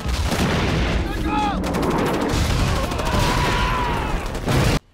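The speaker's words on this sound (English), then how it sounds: "I guess those are like mortars, artillery" Mortar and artillery fire in a Vietnam War battle scene from the film We Were Soldiers, a loud, continuous barrage of blasts and gunfire with whistling shells overhead, dense and chaotic throughout before cutting off abruptly.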